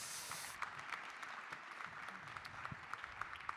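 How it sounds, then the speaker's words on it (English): Audience applause at a startup pitching session for composites manufacturing, a dense, steady patter of many hands clapping that carries on throughout at a modest, slightly distant level. "Give it a round of applause,"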